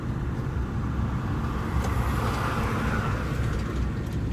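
Road traffic rumbles by on a street, a steady broadband wash of passing cars with a faint swell as one vehicle overtakes, heard from nearby without talk.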